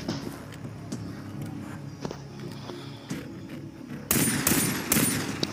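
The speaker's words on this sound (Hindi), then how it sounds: "मैं फायरिंग कर रहा हूँ टावर पे" Gunfire in Far Cry 3 near a radio tower: a few soft taps and footsteps give way to a sudden loud burst of rapid shots that sits close and continues to the end.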